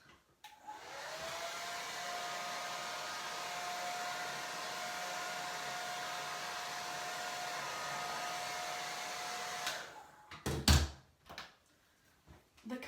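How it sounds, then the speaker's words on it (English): A hair dryer starts up and blows with a steady, loud whirring hiss onto glow-in-the-dark items for about nine seconds, then switches off, followed by a few sharp thunks like something being set down. "if you take a hair dryer and you blow dry some of these"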